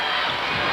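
Crowd at a 1997 state championship basketball game between Hancock and Wabasso roars in the final seconds, a dense, loud wall of cheering with shouts and whoops, no clear talk.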